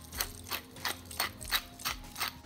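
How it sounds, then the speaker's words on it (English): A pepper mill grinds pepper with a rapid, even series of about eight crunching twists, close and fairly quiet, in a kitchen while a sauce is being made. "I'm just gonna grind some pepper in here as well."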